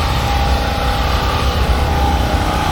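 A Honda motorcycle's six-cylinder engine roars steadily and loudly at close range, a continuous dense drone with no pauses.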